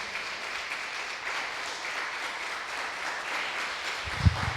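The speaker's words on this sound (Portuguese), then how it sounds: "Você pode aplaudir ao Senhor?" A congregation at a Portuguese-language church celebration service applauds in a steady, even patter of many hands, sustained throughout, with a faint thump near the end.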